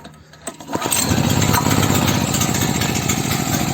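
A small petrol generator engine sputters, catches after a pull, then settles into a loud, steady running drone close by.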